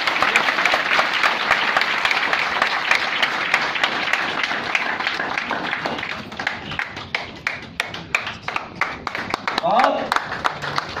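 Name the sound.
audience applause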